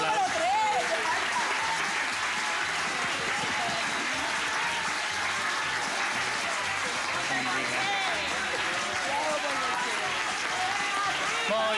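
A tour group on a trip to Israel claps steadily for about twelve seconds, with a sustained crowd of hands mixed with many overlapping voices and chatter.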